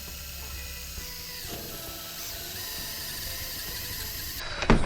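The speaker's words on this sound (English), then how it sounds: "This 3/4 inch paddle bit makes a hole just big enough for this 3/4 inch to go into." A 3/4 inch paddle bit bores through PVC pipe held in a vise, giving a steady mechanical whir for several seconds that ends in a louder burst as the bit breaks through.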